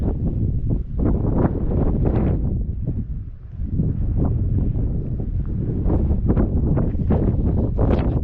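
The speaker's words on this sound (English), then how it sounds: "It's starting to get a little windy." Wind gusting across an open microphone in canyon country, a steady broadband rush with irregular buffeting swells throughout, loud and close with no other clear sounds.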